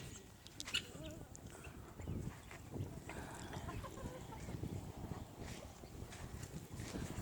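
Backyard chickens, including Ameraucanas, and guinea fowl cluck softly and intermittently outdoors, faint and scattered across a quiet background.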